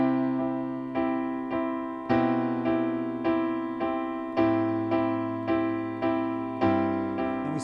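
Piano right-hand chords struck in steady eighth notes over bass notes stepping down in half notes, a clear and close repeating pulse with no voices.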